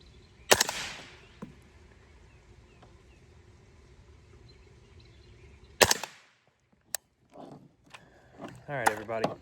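Two sharp suppressed reports from an Aero 300 AAC Blackout pistol firing Hornady 208-grain subsonic rounds, spaced several seconds apart, each a loud close crack with a short tail, followed by faint clicks and brief talking near the end.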